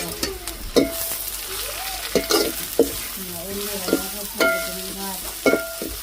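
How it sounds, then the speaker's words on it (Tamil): Spinach fries and sizzles in a pan while it is stirred, with a steady crackle broken by sharp scraping strokes of the spoon; faint voices sound briefly in the background. "கீரையை போட்டு கிண்ட போறீங்களா கிண்டி விடட்டானா"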